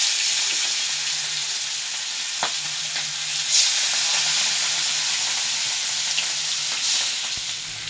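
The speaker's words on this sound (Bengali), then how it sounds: "এই যে করা যাবে, কড়া করে ভেজে নিই।" Pholi and rui fish pieces being fried crisp in a pan of hot oil make a steady, loud sizzle with a few sharp spits and crackles, close by and without speech.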